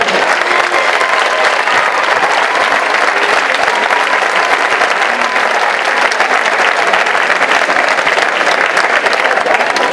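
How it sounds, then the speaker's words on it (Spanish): Strong, steady applause from a large crowd at a town festival proclamation, honoring volunteers, a dense and unbroken wash of clapping held at full loudness throughout. "Quiero, por favor, un fuerte aplauso a toda esa gente que trabaja sin ánimo de lucro por nuestra"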